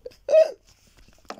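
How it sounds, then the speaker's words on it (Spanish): A single close, short hiccup, sharp and voiced, followed by a brief pause and a bit of speech. "Ahí tengo hipo."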